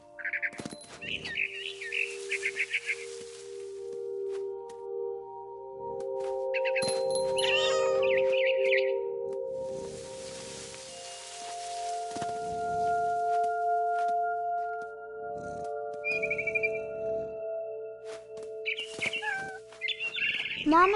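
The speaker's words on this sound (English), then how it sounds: "It was a barn swallow going back to her nest." A barn swallow chirps in the video game What Remains of Edith Finch, with bursts of bright tweeting calls over a sustained tonal musical bed and occasional ringing tones.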